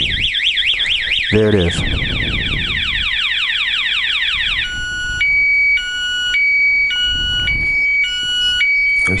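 A SPY 5000m alarm on a 2008 Honda Goldwing GL1800 blares loudly up close, first a rapid warbling sweep, then a rising whoop, then a stepped two-tone pattern repeating steadily, with someone briefly speaking at the start.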